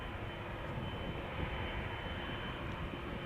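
Delta Airlines A330-300 airliner at Amsterdam Schiphol Airport, a faint, steady distant engine rumble and broadband hiss that holds evenly without change.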